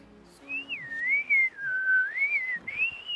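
A Jeju haenyeo diver's whistling exhale after surfacing: a single long, wavering whistle that rises and falls in pitch for nearly three seconds, fairly close and clear against quiet coastal surroundings.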